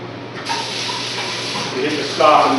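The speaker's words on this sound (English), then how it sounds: "at the end of the day, we're going to stop and drain this machine" A commercial kitchen machine drains, giving a steady, close rush of gushing water that swells slightly louder toward the end.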